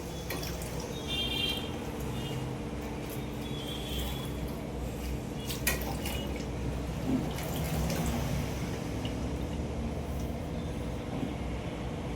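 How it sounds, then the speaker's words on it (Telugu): Cooking oil poured into a pan to fry sweet chana dal and jaggery bondas, a steady soft trickle of liquid running on without a break, quiet and close, with no talking. "పొన్నాలకు సరిపడా ఆయిల్ వేద్దామండి."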